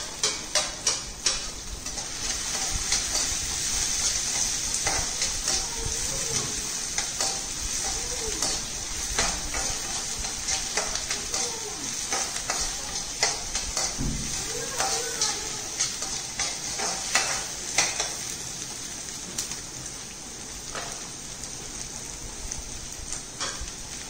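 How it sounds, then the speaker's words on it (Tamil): Finely chopped onions sizzle and crackle in a pan while being stirred for rava kichadi, a steady frying hiss with scattered spatula clicks and scrapes throughout, fairly close. "இங்கே நம்ம பொடியாக நறுக்கி வச்சுருக்கிற வெங்காயத்தை ஆட் பண்ணிடலாம்."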